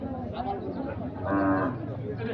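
A white bull moos once at a cattle market, a drawn-out low call rising over steady background noise and faint chatter.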